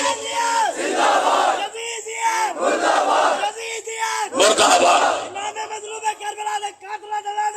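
At a religious gathering for an annual majlis, a large crowd shouts the slogan Naara-e-Haidari in loud, repeated rising chants, several waves of massed voices following one another with short pauses between.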